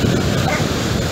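A dog on a Brazilian beach at Itaoca gives short yips and barks, close by, beneath a constant loud roar of wind and surf.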